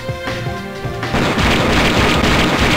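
Bomb skill in the video game Metal Slug 6 sets off a loud, sustained rumbling explosion with crackling bursts, following a brief tonal game sound.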